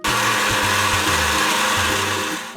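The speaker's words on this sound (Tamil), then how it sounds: "சர்க்கரையும் ஏலக்காயும் போட்டு நல்லா மைய அரைச்சிக்கலாம்." Mixer grinder whirring sugar and cardamom, a loud continuous motor drone with a rattling, pulsing hum from the jar throughout, cutting off abruptly at the end.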